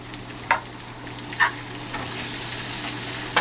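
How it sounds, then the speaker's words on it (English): Pasta sauce being stirred in a pan over a steady frying hiss, with a few sharp utensil scrapes spaced out across the stretch, no talking. "Stir it all up again."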